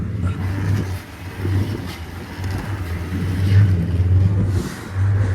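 A motorboat engine on a boat ride in Thrissur rumbles low and close, its steady throb swelling and easing as it revs.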